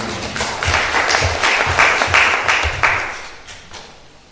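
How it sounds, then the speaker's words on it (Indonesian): Audience at a church prayer and fasting gathering breaks into applause, a rhythmic swell of clapping with some beat-like accents that fades gradually toward the end. "Kita berikan tepuk tangan yang paling baik."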